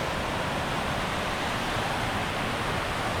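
A man-made waterfall at Silwane Nature Reserve near Bulawayo roars steadily up close, a dense, unbroken rush of falling water with no pauses.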